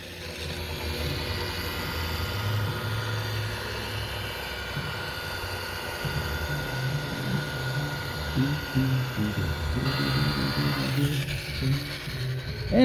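Handheld buffing machine polishing boat gelcoat, a steady whirring motor drone with tonal whine that roughens and fluctuates as pressure shifts in the second half, loud and close, with no talking.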